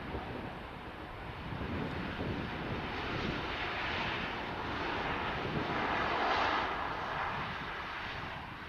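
Aircraft arriving at Manchester Airport, a steady broad jet-engine roar that swells gradually toward the middle and eases slightly at the end, with wind noise on the microphone and no talk.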